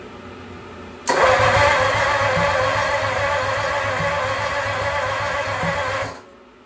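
A Lincoln V12 flathead engine fires up abruptly after a quiet moment and runs with a loud, rough, steady rumble for about five seconds before cutting off.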